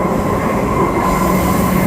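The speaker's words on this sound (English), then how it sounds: "capture some shots of the train going express through the stations" A six-car suburban train runs express through a station on the Showgrounds–Ellenbrook line, giving a loud, steady rumble of wheels and carriages with a faint squeal throughout and no voices.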